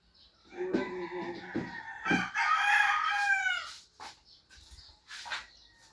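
Hens and a rooster cluck and call close by while being given feed, with one long crow-like call in the middle and shorter clucks around it, and no talk.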